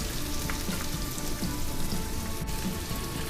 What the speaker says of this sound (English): now I'm going to add the sliced onions and I'm going to fry it till it's brown